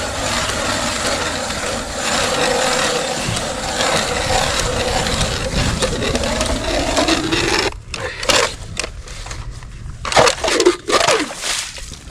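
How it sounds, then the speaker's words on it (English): A 6-inch Clam hand auger grinds through lake ice in a steady, loud scraping churn for about eight seconds, then breaks into short, uneven crunching bursts as it finishes the hole. "this is a 6-inch clam hand auger, which I hate using because you're sweating and out of breath by the time you're done using it"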